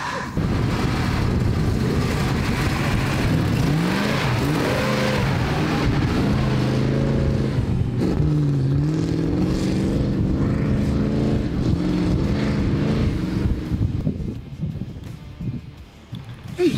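A 1980 Toyota LandCruiser stuck in beach sand revs its engine hard and steadily, the pitch rising and falling as it strains, loud and close for the whole stretch before easing off near the end.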